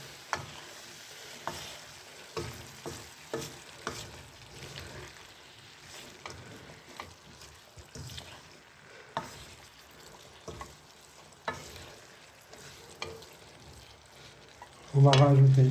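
White and red beans with green beans fry in a pan while a utensil stirs them, a low steady sizzle broken by soft regular taps and scrapes, ending in a brief louder tonal noise.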